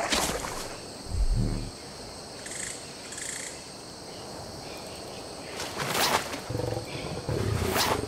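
A tiger in the video game Ark gives a loud, low roar that swells and fades, set against a constant chorus of wild insects and frogs. Brief sharp bursts of game noise follow, with no talking.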